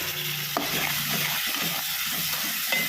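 A ground spice paste of coconut, black pepper, cumin, onion and tomato sizzles steadily in hot oil in a pan while cooking stingray curry, with a constant frying hiss and occasional utensil knocks, close and without talk.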